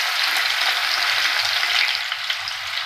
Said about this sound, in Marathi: तेल आपलं तापलेलं आहे, आपण राई जिरं घालूया त्याच्यामध्ये. त्यानंतर लसूण घालूया